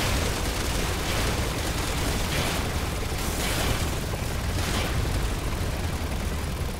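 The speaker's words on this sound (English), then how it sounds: "Oh, X to launch missiles." Missiles strike in Resident Evil 6, making a dense, loud wall of rumbling explosions and blasts that runs continuously throughout, with repeated surges of booming detonation and no talk.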